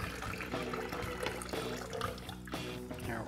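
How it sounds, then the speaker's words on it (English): Film developer pouring out of an Ars-Imago Lab-Box developing tank into a sink, a steady continuous gurgling stream of liquid running close by for the whole moment, with no talking over it. "I'm going to pour out my developer"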